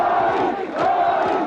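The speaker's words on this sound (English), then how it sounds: "The defense minister reaching the main street greeted by tens of thousands of cheering supporters." Tens of thousands of supporters cheering in the main street during the 1986 EDSA Revolution, a loud, massed roar of shouting voices with surging peaks, heard alone.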